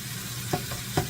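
Steady sizzling of ground beef frying in a pan for sloppy joes, with two distinct scraping, mashing strikes of a meat masher breaking through the hiss.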